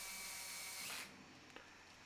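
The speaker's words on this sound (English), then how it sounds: "I kind of slide it in, get the drill in place, and I drill it until it stops" A power drill whirs steadily at high speed driving a pocket-hole screw in a Kreg jig, then winds down and stops as the screw seats, followed by quiet background hum.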